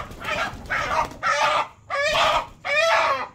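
Native chickens clucking and crowing up close, in five loud, bursty calls separated by brief pauses, with no voices over them.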